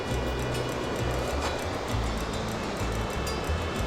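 Continuous rushing water from La Fortuna waterfall in Costa Rica, a dense, steady roar with no pauses, like falling water heard close by.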